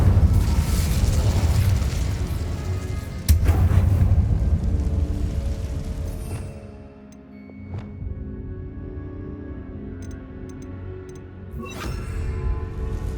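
A fire spell cast in Hogwarts Legacy erupts in a loud, roaring whoosh that holds for several seconds, then drops away into quieter ticking and clinking game effects, with a sharp pop near the end.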